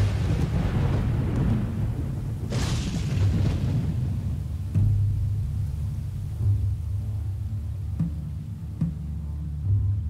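Thunder from a lightning storm in the prehistoric village game Dawn of Man rolls as a loud, low rumble that peaks early, then fades into a softer, steady storm bed with a few light thuds.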